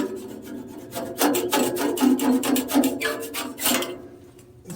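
A piece of metal scrapes built-up pitch off a saw blade in a woodshop, a run of rough rasping strokes in quick rhythm, close and moderately loud, with no talking.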